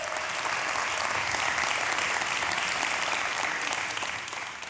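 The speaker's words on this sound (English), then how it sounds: "Raise your hand or give him a round of applause." A seminar audience at a goal-setting mastermind event applauds steadily, a dense, even roar of many clapping hands lasting the whole stretch and tapering a little at the close.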